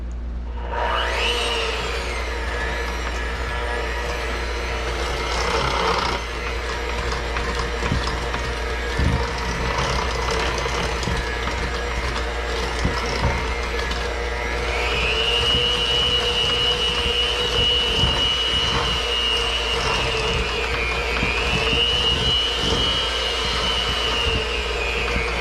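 Vegan fudge brownie batter mixed with an electric mixer, a loud, continuous motor whir with a low hum that changes pitch partway through, with faint clinks against the bowl.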